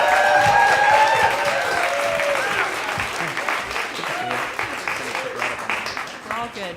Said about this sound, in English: Big round of applause for Sharon